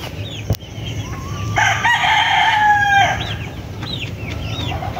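A rooster crows loudly nearby, one long call, while other chickens cluck softly in the background.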